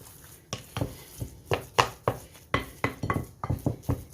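A large spoon knocks and scrapes through cornbread dressing in a dish, about a dozen sharp clinks and scrapes in an uneven stirring rhythm, close and alone.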